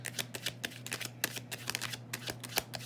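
Tarot cards being shuffled by hand, a quick series of soft papery riffles and taps, close and fairly quiet, with no talking.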